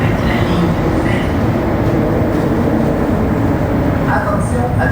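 A Montréal Métro train approaches the station at Lionel-Groulx as a steady, loud rumble with rail noise throughout, and faint voices mixed in.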